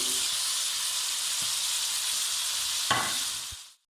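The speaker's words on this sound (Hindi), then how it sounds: "प्याज को फ्राई करते हुए तकरीबन हमें 2 मिनट हो गए हैं" Roughly chopped onions sautéing over a high flame for a potato and pea curry produce a dense, continuous sizzle with a couple of stirring knocks before the sound cuts off abruptly near the end.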